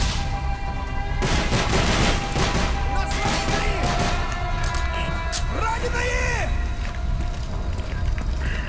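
Gunfire from Call of Duty: Black Ops, shots fired into a wall, as dense sustained bursts of automatic fire running the whole stretch, with game effects and a voice talking over it.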